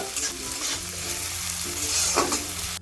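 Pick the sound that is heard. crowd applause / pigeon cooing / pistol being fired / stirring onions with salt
stirring onions with salt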